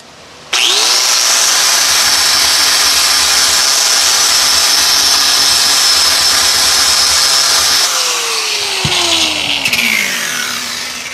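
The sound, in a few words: scraping slag off a weld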